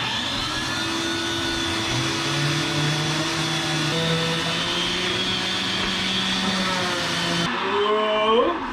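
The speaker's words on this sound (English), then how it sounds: "I have wrapped a bunch of tape around my sander here. As a result, I can now actually use the vacuum on here as well." A power sander with tape wrapped around it to hold a vacuum hose roars in a steady, loud drone while working wood on a wooden boat restoration, the pitch wavering slightly, then dropping as it winds down at the end.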